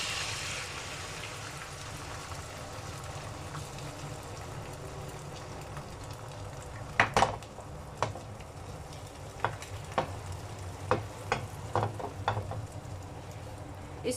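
An egg fries in melted butter in a pan with a steady, soft sizzle, later broken by a series of sharp pops and taps from the pan.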